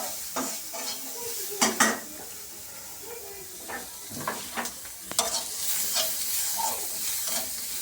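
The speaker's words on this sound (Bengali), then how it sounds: "এখন আমার পেঁয়াজগুলো একটু ভাজা হয়ে গিয়েছে প্রায়" Onions frying in a pan give off a steady close sizzle, broken by repeated scraping and clinking strokes of a stirring utensil against the pan.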